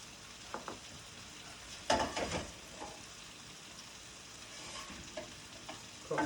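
Garlic stirred into soft, translucent onions sautéing in a pan for risotto: a low, steady sizzle with scraping and stirring bursts, the loudest around two seconds in and again at the end.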